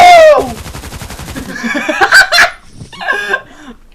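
Rapid automatic gunfire in the video game Contract Wars, a quick rattling burst followed by sharper shots, mixed with loud excited shouting voices at the start and end.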